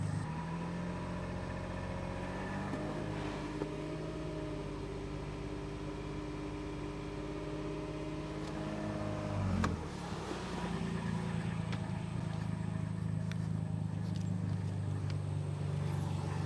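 A car engine idles and hums steadily at low volume near an exhaust jack, with one short rise in revs partway through before settling back to an even drone.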